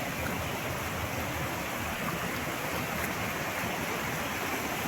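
Floodwater runs across a village road in a constant, dense rushing wash, steady and unbroken throughout, with no voices.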